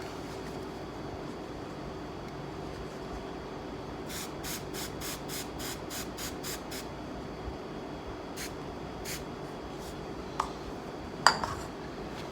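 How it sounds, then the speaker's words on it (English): A quick run of about ten short spray spritzes of glue activator from a spray can, followed by a few scattered spritzes and small clicks over a faint steady room hum, in a woodworking shop. "I'll spray on some activator."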